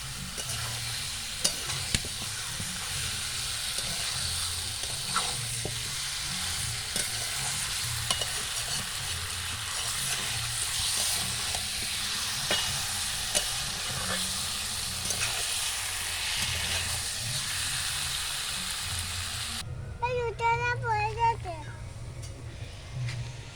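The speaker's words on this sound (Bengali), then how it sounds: "মাংস ভালোভাবে কষিয়ে নিয়েছি" Chicken and whole garlic cloves frying in a pan for a cauliflower curry, a steady close sizzle with repeated scrapes of stirring, ending in a quieter spell with a voice speaking near the end.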